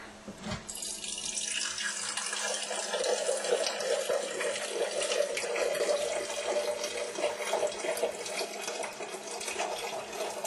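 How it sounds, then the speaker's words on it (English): Tap water pours steadily into a cooking pot, a continuous hiss and splash that starts abruptly and runs unbroken at close range with no talking. "Put some water in my pot."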